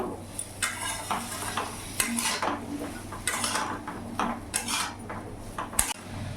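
A papaya and shrimp curry with chilli powder and chopped green chilli being stirred in a pan: rhythmic metal spoon scrapes and clinks over a light sizzle, close and loud, without voices.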